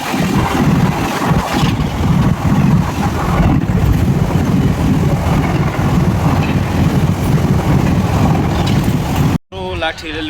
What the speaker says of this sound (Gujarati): ટ્રેનમાં ફરવાની તો મજા કંઈક અલગ જ હોય છે।